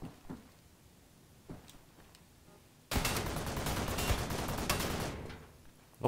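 A turret in the Wolfenstein video game opens up with a dense burst of rapid gunfire lasting about two seconds, preceded by scattered faint shots and ending with one sharp crack.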